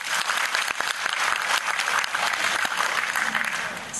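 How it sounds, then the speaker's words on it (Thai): Sustained audience applause at a Thai folk singing performance, loud and continuous with dense overlapping claps throughout. "ปรบมือ"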